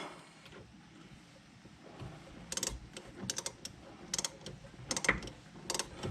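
A brake caliper bolt tightened on a 2006 Nissan Altima, with quick bursts of ratchet clicks in short runs, close but fairly quiet, against a faint background hum and no talk.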